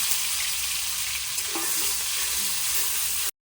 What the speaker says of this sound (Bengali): কড়াইতে তেল দিয়ে মুড়ি ঘন্টার জন্য প্রথমে পেঁয়াজ বাটা, রসুন বাটা, টমেটো কিছু দিয়ে ভালো করে নাড়িয়ে নেব।